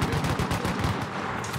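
Gunfire in the survival game Rust, a loud, close burst of rapid automatic shots hammering steadily throughout, without speech over it.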